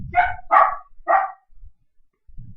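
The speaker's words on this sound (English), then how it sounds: "Those are my dogs" Dogs bark indoors, three sharp barks in quick succession, fairly close and loud, followed by a quiet pause with faint low shuffling noises.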